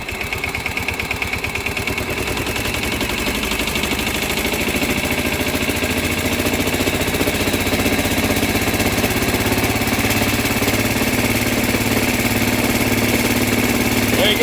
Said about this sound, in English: Now it starts. It's running.